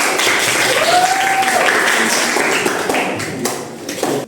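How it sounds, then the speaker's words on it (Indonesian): Classroom audience applauding, a dense patter of clapping that is loud at first and thins toward the end, with scattered taps. "Dari tepuk tangan dulu."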